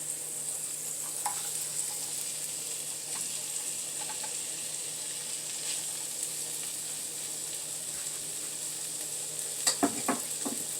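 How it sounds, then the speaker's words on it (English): Turkey bacon frying in an already hot pan gives a soft, steady sizzle with a few faint clicks, ending in a short cluster of louder knocks near the end. "Pan is already hot. And we're going to put that turkey bacon in there."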